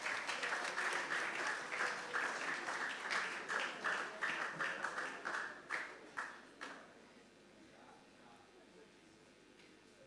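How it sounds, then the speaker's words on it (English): An audience at a national investment quiz competition claps steadily for several seconds as contestants come on stage. The applause then trails off into scattered claps and quiet room noise. "Let's clap for them as they join us."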